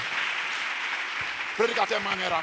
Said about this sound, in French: Acclame pour les prédicateurs.